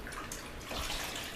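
A wool dryer ball soaked and squeezed in water with a drop of dish soap, giving a close, quiet sloshing and swishing wash that swells briefly near the end.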